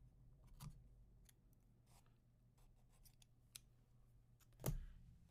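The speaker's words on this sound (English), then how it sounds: "And we're going to cut our yarn" A couple of short, crisp scissor snips cutting crochet yarn close by, a soft one early and a louder sharp snip near the end, over a quiet room hum with faint handling noises between.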